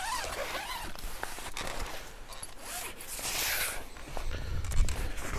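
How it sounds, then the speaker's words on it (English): A heavy-duty zipper on the screen mesh of a camper tent is pulled in several quick rasping runs at close range, with faint rustling of the fabric between pulls. "Again, heavy duty zipper on that."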